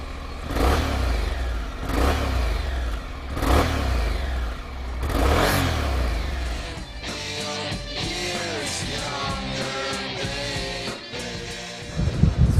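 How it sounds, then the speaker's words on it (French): Honda CTX 700's 670 cc parallel-twin motorcycle engine revs in several rising and falling surges, loud and close, then settles into a steady running drone. "Le bicylindre en ligne de 670 cm3 privilégie le couple à bas et moyen régime"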